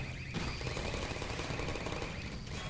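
Rapid bursts of automatic gunfire from sentry turrets in Half-Life 2, a fast rattling stream that starts abruptly and keeps a steady loud pace for a couple of seconds before cutting off.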